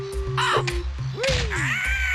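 Crow-like bird enemies in the video game Banjo-Kazooie caw in short, harsh bursts over a bouncy music loop, several calls within about two seconds, close and clear.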